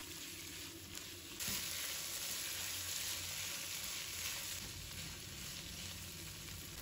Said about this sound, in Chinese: 再把炒干的冬瓜也放入锅中，继续翻炒，炒香炒熟。